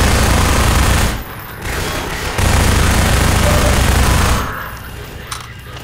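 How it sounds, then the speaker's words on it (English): Gunfire in the Minerva: Metastasis video game, with loud, dense bursts of shooting that fill most of the stretch, breaking off briefly twice before dropping away near the end. "Shoot your kneecaps. I'll shoot your kneecaps."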